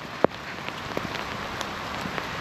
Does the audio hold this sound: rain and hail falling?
yes